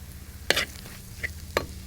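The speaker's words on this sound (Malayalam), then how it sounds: "മുളക് പൊടി നമുക്കിനി ഒന്ന് ഇളക്കി കൊടുക്കാം" A spoon stirs chili powder into mackerel frying in a pan, making three brief scraping strokes over a soft, low sizzle, close and fairly quiet.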